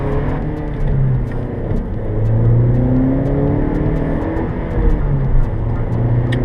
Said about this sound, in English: Rolling through the gears on this car is still a lot of fun